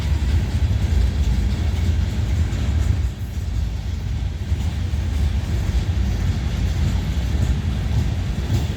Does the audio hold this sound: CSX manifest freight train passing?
yes